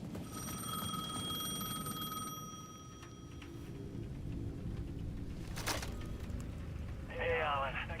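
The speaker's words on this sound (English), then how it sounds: "The payphone at the edge of the plaza was ringing again." A payphone rings at the edge of a plaza in the video game Alan Wake 2, a steady bell-like ring with sustained tones over the first few seconds, set against a low ambient drone.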